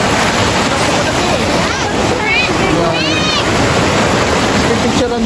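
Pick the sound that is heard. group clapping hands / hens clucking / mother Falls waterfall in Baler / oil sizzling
mother Falls waterfall in Baler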